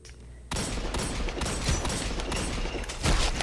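Hand cannon fire in a one-versus-one video game match: a rapid, dense series of loud gunshot bursts, one after another, with no break.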